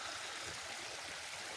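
A small creek winding across a property toward a culvert flows with a faint, steady rushing wash. There is a brief sharp click near the end and no voices.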